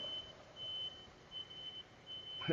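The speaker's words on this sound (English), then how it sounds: "It sounded like a brake alarm" A thin, steady electronic beep tone, like a truck's brake alarm, repeats faintly over a low engine rumble in the cab.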